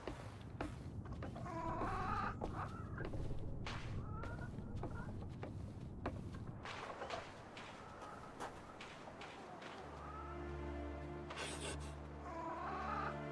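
A chicken clucks in the REKA video game demo, giving a few short, soft clucks scattered over a low, steady game ambience.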